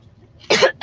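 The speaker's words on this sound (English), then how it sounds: "We're eating and coughing on live." A person coughs twice into a live-stream microphone, one loud, short, harsh cough followed quickly by the start of a second, close and dry after a near-silent pause.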